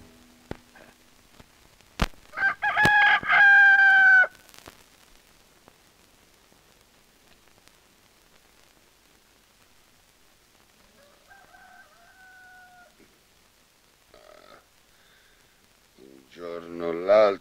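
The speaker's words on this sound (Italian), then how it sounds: "Gli tiro il collo a questo gallo." A rooster crows loudly and clearly in a scene from the Italian-dubbed Western film Vayas con Dios Gringo, followed by fainter clucks and short squawks after a long quiet stretch, with a sharp crack near the start.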